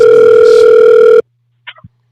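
A telephone dial tone hums loud and steady for about a second while a call is placed to a show guest, then cuts off abruptly, followed by a few faint clicks.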